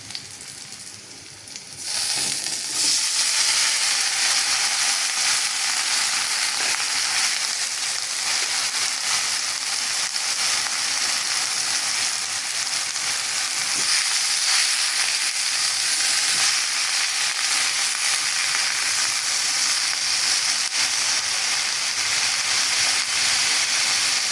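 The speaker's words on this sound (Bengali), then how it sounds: "পেঁয়াজটা ভাজা ভাজা হয়ে আসছে, আমি তিতা করলাটা দিয়ে দিব" Sliced onion and bitter gourd fry in a pan with oil, giving a steady, dense sizzle that starts quieter and swells after about two seconds, then hisses on evenly and up close with no talking.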